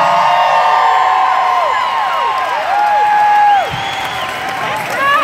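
Loud crowd at a concert in Peoria, Illinois, cheering, whooping and clapping continuously with shrill whistles rising and falling throughout, fading slightly near the end.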